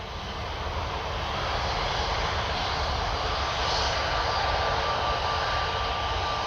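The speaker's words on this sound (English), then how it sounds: "Transavia A320 Airbus" A Transavia Airbus A320 taxis at Orly airport, its jet engines producing a loud, continuous roar with a thin high whine that holds steady throughout.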